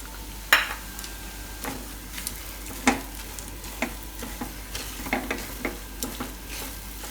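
Beet and moong filling stirred in a frying pan, with soft sizzling and irregular scraping clicks from the spoon as the mixture is turned over, steady and close with no voices.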